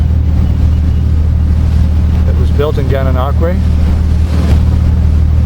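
Steady low engine rumble and wind noise of a yacht just over 100 feet long, powered by several diesel engines of over 1,000 horsepower, cruising the St. Lawrence River, with someone talking over it.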